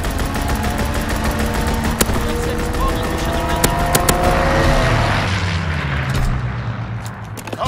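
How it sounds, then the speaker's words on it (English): Fighter aircraft strafing run in Call of Duty WW2 multiplayer on Gibraltar: a loud roaring engine with a falling pitch as the plane sweeps past, punctuated by sharp gunfire cracks and booms, all under constant loud battlefield noise. "Fighter aircraft ready for strafing run. Strafing run inbound."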